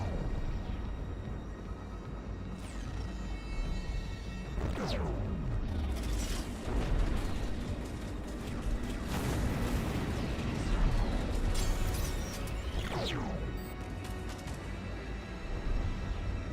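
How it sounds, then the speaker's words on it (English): Strike suit cannons fire in the space combat video game Strike Suit Zero, giving repeated booming blasts with sweeping whooshes over a constant dense rumble of battle. "Just waiting for my flux energy to build up so I can hammer him with the strike suit cannons"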